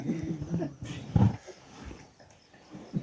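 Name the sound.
voice imitating a dog barking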